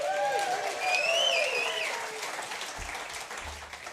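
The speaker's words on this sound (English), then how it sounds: "you, our wonderful live studio audience. Give yourself a hand." Live studio audience applause at a country and bluegrass music show, a steady wash of many hands clapping with some cheers and whistles, gradually thinning over four seconds.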